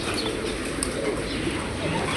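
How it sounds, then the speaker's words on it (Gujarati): Pigeons, including white ones, coo steadily at a cow shelter, with soft cooing layered over a constant, noisy outdoor background and no clear speech. "જો વાઈટ કબૂતર છે"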